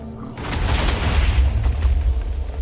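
A sudden booming TNT explosion in Minecraft bursts in, followed by a loud rumbling roar that keeps going to the end.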